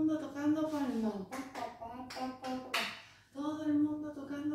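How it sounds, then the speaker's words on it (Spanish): Sharp hand claps during a dance routine, several quick claps in a row between stretches of sung or spoken voice. "todo el mundo tocando palmas"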